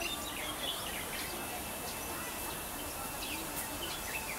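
Thin bird chirps come and go over a steady outdoor hiss in a Hong Kong park, faint and scattered, with a few high tweets repeating at irregular intervals.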